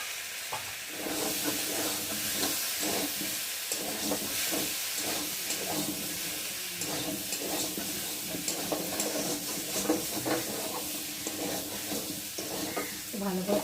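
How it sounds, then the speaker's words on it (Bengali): Vegetarian potato curry (aloo dum) being stirred in a pan, with a steady sizzling hiss of frying and scraping stir sounds running throughout, fairly close and moderately loud, no speech. "তো বেলা হয়ে গেছে, তরকারিটা একটু নেড়ে দেবো।"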